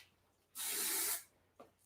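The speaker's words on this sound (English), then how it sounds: "Got a bit more on the hairspray." A single close burst of hairspray from an aerosol can onto styled hair, a loud hiss lasting about half a second in a quiet room.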